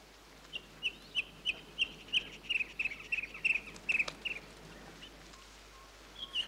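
A bird calling in a French cartoon, a rapid series of bright, clucking chirps repeated about a dozen times, then a short pause before more calls.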